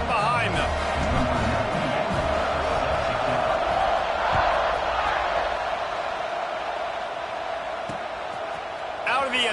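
A big stadium crowd in a football video game roars and cheers steadily around kickoff, the broad din holding throughout with an announcer's commentary over it.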